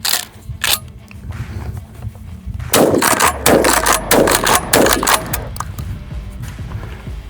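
A McCoy PAS pump-action shotgun fired in rapid succession, 7.5 shot: a string of sharp, loud blasts, spaced apart early, then packed closely together with pump racking between them, followed by fading echo.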